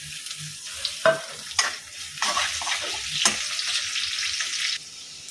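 Onion sizzling and crackling in hot oil, with a few sharp clatters of stirring, close by and steady for several seconds.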